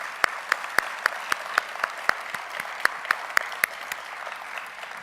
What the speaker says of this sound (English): So let us give a round of applause to Secretary Duncan.